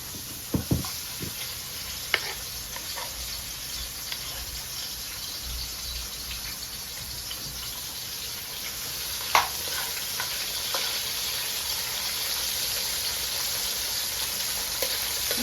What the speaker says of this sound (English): I always like to burn the onions first